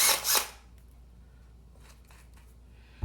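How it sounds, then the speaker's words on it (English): A short burst of a small electric drill twisting wires into a harness, whirring for about half a second, then near quiet with faint rustling and a small click at the end. "hold them near the end there and let the drill work its magic"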